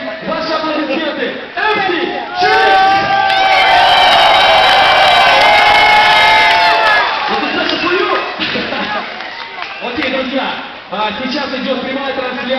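Large arena crowd in Moscow at a DJ event roaring, whooping and cheering, with a swelling wave of shouts in the middle and a voice talking over the noise.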